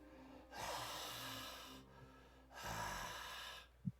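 Heavy, drawn-out breaths in two long, noisy pulls with a pause between, ending in a short sharp puff; sounds like a voice imitating ragged breathing.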